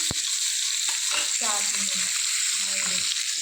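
Pointed gourd and pumpkin frying in a pan, a soft continuous hiss and sizzle at moderate distance, with voices talking faintly over it.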